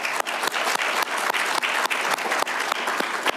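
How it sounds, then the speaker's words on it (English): An audience applauding at a graduation ceremony, dense continuous clapping from many hands, loud and sustained throughout. "I just want to give a round of applause for him."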